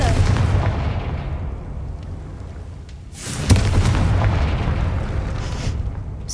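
In Hogwarts Legacy, a Confringo fire spell detonates with a deep rumbling explosion, then a second sharp burst erupts and roars on, loud and close with a faint voice in the background.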